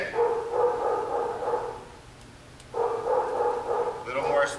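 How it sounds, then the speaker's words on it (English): Several dogs bark in the background during an outdoor obedience training session, in two bursts separated by a short lull, while a trainer gives commands. "There's a lot of barking on this side."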